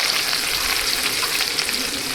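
Ginger and chilies frying in a pan with mustard seeds, a dense, even sizzle heard up close and fairly loud, with faint stirring underneath and no voices.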